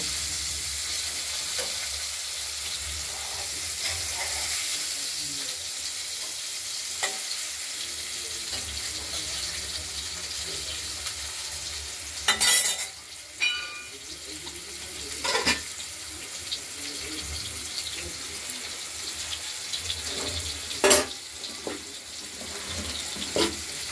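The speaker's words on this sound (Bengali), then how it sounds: "আমরা আলুগুলোকে ভেজে নেব।" Cut potatoes fry in spiced oil with a continuous crackling sizzle, broken now and then by the clink and scrape of a utensil stirring the pan.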